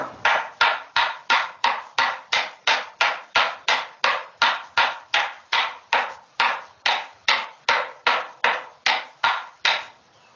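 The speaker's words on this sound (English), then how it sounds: "That was scraping and beating to get this just as finely cleaned as possible" Flax fibres are scraped and beaten by hand to clean them. About two dozen close, even thumps land in a steady rhythm, with no other sound between the strikes.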